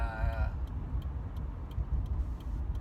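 Low, steady rumble of a car being driven, heard from inside the cabin, with faint regular ticking, like a turn signal, over the road noise; a brief voice sound at the very start.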